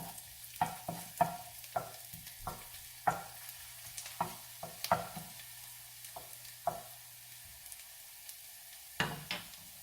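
Garlic fries until brown in a pan, quiet and close, with scattered taps and scrapes of a spoon stirring it over a soft background sizzle and low hum.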